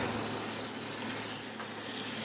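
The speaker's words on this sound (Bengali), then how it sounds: "বাটারে ভেজে নেব" Something frying in butter for salty peanut bread, giving a steady, even hiss and crackle with no breaks, under a faint low hum.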